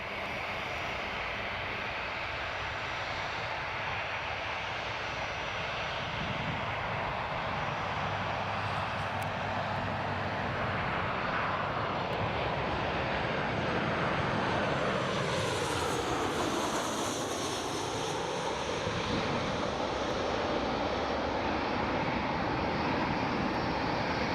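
A Ryanair Boeing 737 lands at Newcastle Airport, its jet engines roaring steadily and loud at first, then swelling and shifting in pitch as it passes and touches down, with no talk.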